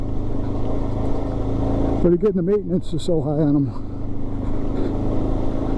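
A Suzuki DRZ motorcycle engine drones steadily while riding on the Trans America Trail, a constant low hum with wind noise, and someone speaks briefly over it in the middle.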